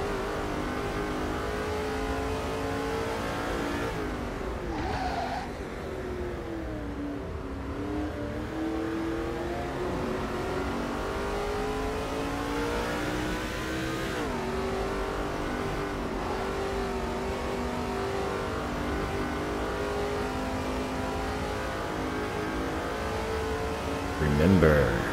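A NASCAR 2005 race car on a road course at Watkins Glen revs up and down through shifts in a steady, close engine drone, with someone talking over the game sound throughout.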